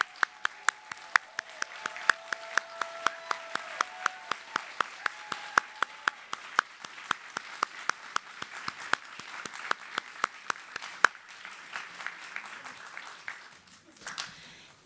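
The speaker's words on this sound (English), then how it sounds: "Let's celebrate with a round of applause." Faint, sparse clapping from a thin audience at a biomedical sciences commencement ceremony, with distinct individual claps in an irregular rhythm, a low murmur beneath, and the clapping thinning out toward the end.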